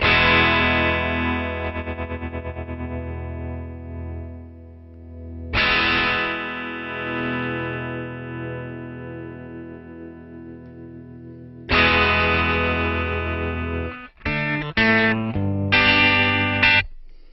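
Distorted electric guitar chords ring out and sustain several times, with a wavering auto-pan effect from a HeadRush Gigboard worked by an expression pedal, ending in a few quick choppy strums.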